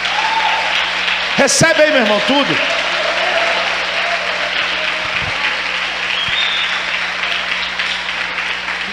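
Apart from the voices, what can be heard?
congregation applauding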